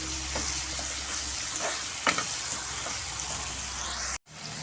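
Onion and tomato sizzle steadily as they sauté with salt in a pan, with occasional scraping stirs and a brief cut-out near the end.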